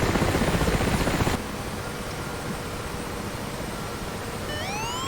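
Video game helicopter engines shutting down, a loud broadband rotor-and-turbine roar that drops off abruptly after about a second, leaving a steady lower hum with rising whine tones near the end.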